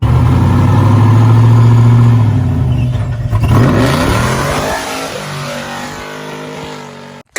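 A 1,200hp ProCharged LS V8 in a mega truck revs hard and loud up close, with a sustained high-rpm roar that sweeps up and then breaks into rougher, falling revs before cutting off abruptly at the end.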